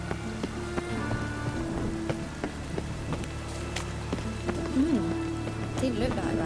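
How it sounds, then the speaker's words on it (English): Steady rain patters in the open-world fantasy game The Witcher 3: Wild Hunt, a constant wet hiss beneath game music tones, footsteps and occasional short impacts. "Rain again."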